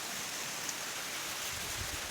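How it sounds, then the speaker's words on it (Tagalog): A steady, broad rushing roar of strong wind blowing continuously, loud and unbroken, with no voices. "Ang lakas talagang hangin."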